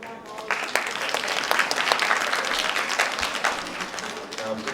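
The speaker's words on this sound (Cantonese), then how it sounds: "咁啊請大家以熱烈嘅掌聲歡迎程小麗、" Audience at a performance applauding to welcome performers, dense continuous clapping that rises quickly and holds steady, with a voice heard faintly underneath.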